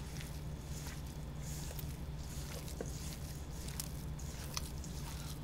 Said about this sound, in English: Now we just mix it up with our hands.